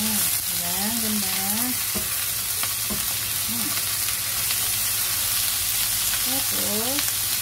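Shrimp and broccoli stir-fry sizzles loudly and steadily in a hot pan, with occasional clinks of the utensil. A voice speaks briefly over the frying.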